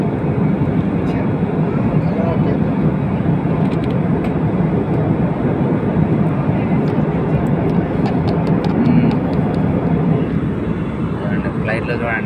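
Steady broadband engine roar fills an airplane cabin in flight on a route from Ayodhya to Shamshabad, a constant loud drone with faint clicks and rustles on top.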